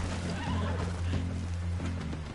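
A horse in Red Dead Redemption 2 whinnies and snorts in a few short bursts, close and fairly loud over a steady low game ambience, with no talking.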